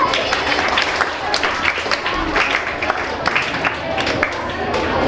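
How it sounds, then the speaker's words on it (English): Girls in a high school class give a quick round of applause for a classmate: dense, steady clapping from a small group, moderately close, with a bit of crowd murmur mixed in. "Let's quick round of applause"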